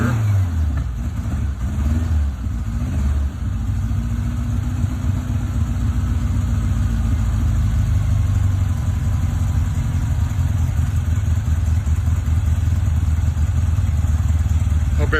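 A 1965 VW Bug's engine running as the car drives away, a steady low rumble with some revving early on, continuous and fairly close throughout.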